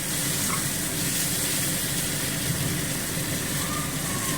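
Spices frying slowly in oil in a pan over a low gas flame, producing a steady, close, even hiss with no break and no one talking.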